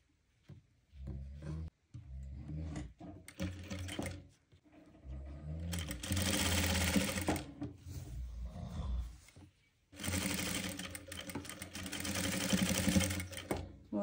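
Sewing machine stitching a velvet blouse, running in loud whirring stretches with brief stops and a few mechanical clicks between runs.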